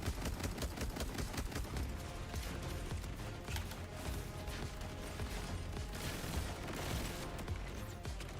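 Rapid bursts of video game gunfire rattle continuously from a shooter game, dense and loud throughout with mechanical clicks and clatter layered in, and no voices.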